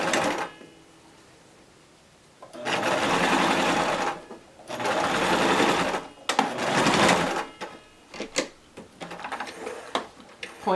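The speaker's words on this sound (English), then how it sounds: "I back stitch here." Sewing machine back stitching a fabric face mask, running in several loud sustained bursts with short pauses between, then a stretch of lighter intermittent stitching and clicks.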